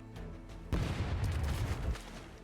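Cannon Breaker cannon shot in the Rogue Waters game, a single loud boom followed by a rumbling, crackling blast that fades over about a second.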